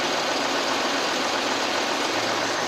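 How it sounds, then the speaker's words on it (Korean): A steady, even idle from an SUV's 3.6-litre V6 engine, loud and close, with a smooth broadband hum and no talking over it. "엔진룸이 너무 높게 있어서 제가 엔진 소리 들려드릴게요"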